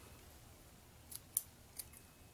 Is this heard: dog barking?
no